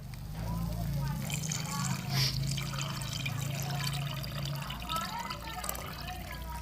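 Tamarind water poured into curry masala in a pan, a soft continuous trickle and slosh of liquid running under a voice talking throughout.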